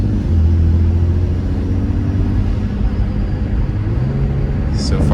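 A single-turbo BMW F80 M3 engine runs steadily up close, a loud, even idle rumble with a deep low hum that shifts slightly in pitch near the end.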